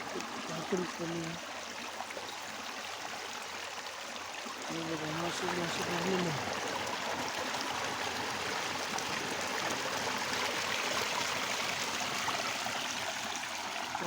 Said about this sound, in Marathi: पाण्याचा झरा आहे